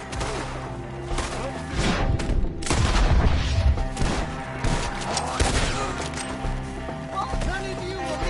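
Gunfire shootout in Red Dead Redemption 2, with dense overlapping shots and booms cracking out over several seconds, loud and continuous, under excited shouting voices and a musical score.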